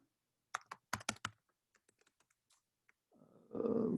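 Close, crisp keystrokes tap on a computer keyboard in a quick burst, then thin out into scattered single clicks before a low humming noise rises at the end.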